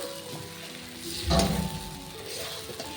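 Fried potatoes tossed into mutton curry cooking over a village clay stove, a low sizzle with a brief louder burst of stirring and scraping midway, close up and without voices.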